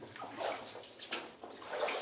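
Water trickles and splashes along the floor of a 1950s uranium exploration adit, a timber-lined mine tunnel, with a soft, continuous flow and a few slightly louder surges, faint and close with no voices.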